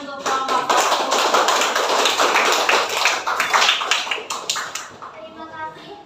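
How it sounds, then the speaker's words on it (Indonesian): A classroom applauds a student group with dense, loud clapping that runs for about five seconds before tapering off, with children's voices mixed in. "tepuk tangan untuk kelompok 1"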